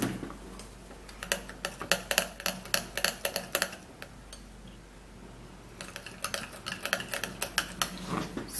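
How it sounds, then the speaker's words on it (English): A spoon stirs an aloe vera juice skincare mixture in a bowl, giving quick bursts of light clinking taps against the bowl, a short pause, then another brisk run of taps. "now I would have to be stirring this all up"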